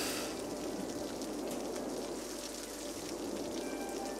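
Steady rain in the city-building game Cities: Skylines, a soft, even hiss of falling drops with no breaks, faint and continuous throughout.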